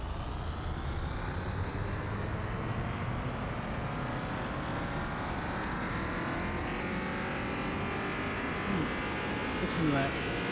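Tuned Dodge Viper GTS engine, boosted to over 1,100 horsepower, roaring steadily at high load for the whole stretch, loud and close, with a voice talking over it.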